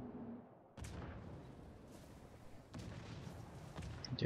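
Naval guns fire in the World of Warships video game, two heavy booming blasts a couple of seconds apart with long rumbling tails under a continuous low background roar.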